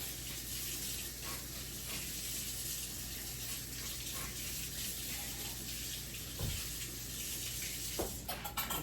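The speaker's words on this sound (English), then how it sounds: "I need to just rinse my beater really fast" A hand mixer's beater gets rinsed under a kitchen tap, a steady hiss of running water filling the clip with a few clinks and knocks near the end, close and moderately quiet.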